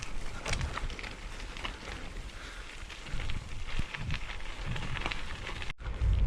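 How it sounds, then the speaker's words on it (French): Steady rain falls during a road bike ride, with a continuous hiss and pattering droplets mixed with wind noise and occasional rustling bumps. "il pleut toujours"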